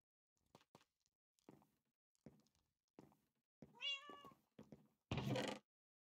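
Cat meowing in a video game, heard as a clear pitched meow rising and falling in the middle, with soft thuds and knocks scattered around it and a loud burst of noise near the end.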